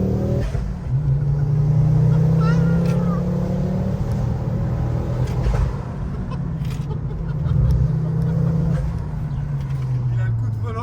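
A Ford RS car driven hard through corners, its engine droning loud and steady with pitch rising and falling as it revs, while people talk excitedly over it throughout.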